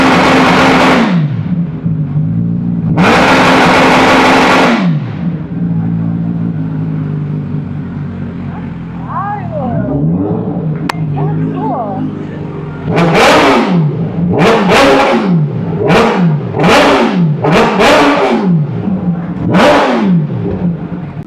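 An Aprilia RSV4 1100 Factory motorcycle engine revs loudly nearby, two long blips early, a lower idle-like stretch, then a rapid series of sharp repeated revs near the end.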